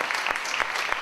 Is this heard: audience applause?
yes